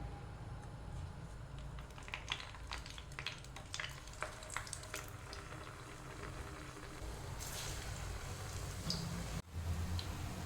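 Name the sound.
urad dal vada frying in hot oil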